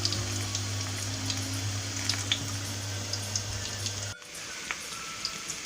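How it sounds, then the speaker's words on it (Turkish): Minced meat sizzles as it hits frying onions in a hot pan, a steady crackling hiss with scattered pops, close and loud, with a brief pause partway through. "Şimdi kıymamı soğanımın içine katacağım."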